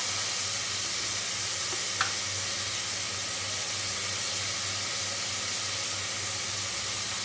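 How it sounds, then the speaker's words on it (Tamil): Chopped tomatoes sauté in a pan for ghee rice cooked with coconut milk, giving a steady, even sizzle with soft hissing that runs on without a break and with no talking. "நல்லா தக்காளி வதங்கட்டும்"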